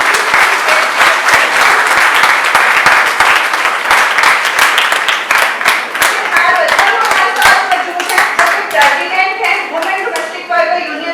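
Audience at a women's May Day rally for domestic workers' social security claps loudly to welcome a speaker onto the stage, a sustained dense burst of applause that thins slightly toward the end.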